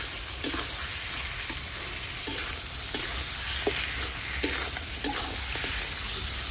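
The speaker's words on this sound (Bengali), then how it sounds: "মাংসগুলোকে দিয়ে মাংসগুলোকে ভালো করে কষিয়ে নিই।" Meat frying and being stirred in a pan while cooked down for a Bengali radish-and-meat curry, a steady close sizzle broken by periodic scraping strokes of the spoon, with no talking.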